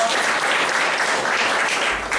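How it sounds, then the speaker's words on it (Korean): Audience applause closes a Korean business seminar lecture: dense, loud clapping from a room full of people that holds steady for a couple of seconds without talk. "멋지게 강의해 주신 이상희 교수님께 뜨거운 박수 부탁드리겠습니다"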